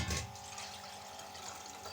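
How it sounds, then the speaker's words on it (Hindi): Warm water pours into flour for dough, a soft continuous trickle and splash close by, heard alone without talk. "इसके अंदर ये मैं पानी ऐड करूंगी।"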